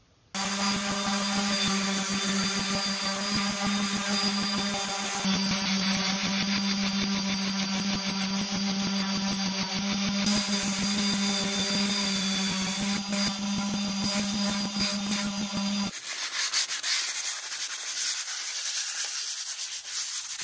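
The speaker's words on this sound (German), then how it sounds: "Die Teile des Untergestells habe ich jetzt auf Körnung 120 heruntergeschliffen." Steady, continuous whine of an electric sander working the wooden base of a dining table down to 120 grit, loud and close, with a constant motor drone that cuts out near the end.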